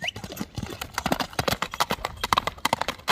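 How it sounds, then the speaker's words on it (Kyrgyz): A horse in Kyrgyzstan's Alai region runs on hard ground, its hooves striking in a quick, uneven galloping rhythm of sharp, close thuds that continue throughout. "Ат сууту уже келиптир."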